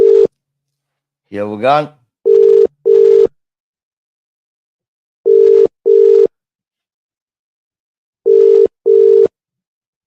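An unanswered outgoing phone call: a ringback tone repeats in paired bursts with long silent gaps, three pairs in all, loud and steady. A brief spoken phrase comes just before the first pair.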